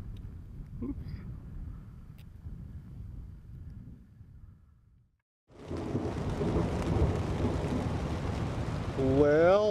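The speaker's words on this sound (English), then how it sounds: "And finally, after almost 2 weeks, we're having rain, except it's the wrong time." Rain and thunder in the Sierra mountains, a low rumbling storm that briefly cuts out, then returns as steady hissing rain with thunder, ending in a brief tonal sweep.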